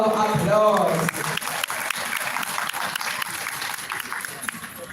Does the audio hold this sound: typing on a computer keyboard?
no